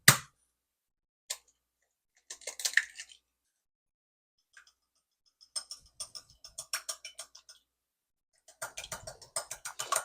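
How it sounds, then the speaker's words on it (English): One egg whisked with a small whisk in a bowl while soup cooks: scattered light clicks, then short bursts of fast, rhythmic tapping strokes, quiet and close, with pauses between. "let's whisk one egg"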